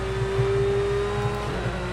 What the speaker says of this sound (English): Revving the ever-loving junk out of the Porsche engine, the flat 6